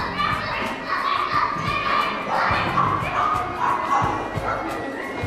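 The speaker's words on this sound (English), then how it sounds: "sometimes we meet pesky dogs." Several dogs barking and yipping on a muddy footpath, repeated sharp barks over a busy background of children's voices and crowd noise.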